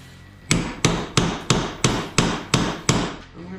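Eight sharp, evenly spaced hammer blows ring out close and loud as a Torx bit is driven into a stripped bolt on an old VW gearbox, each strike a metallic thwack with a short ringing decay.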